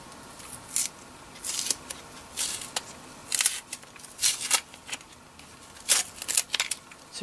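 A box cutter slicing open a hardware parcel during an unboxing, heard as a series of short, crisp scraping cuts and tape rips at close range, separated by brief pauses, with no talking.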